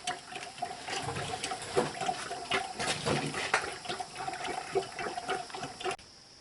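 Engine oil draining from a 2017 Chevy Trax into a pan, a steady close liquid pouring and splashing that runs continuously before cutting off abruptly near the end.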